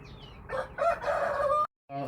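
A rooster crows loudly among chickens at a poultry seller's in Rahovec where good-breed birds are being bought; one long, strained call rings close and clear, then breaks off abruptly, followed by a brief restart.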